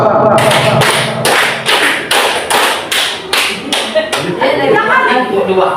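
A group claps together in a counted rhythm game, about nine to ten sharp, loud unison claps in a steady beat, with a brief pause near the end and some background voices.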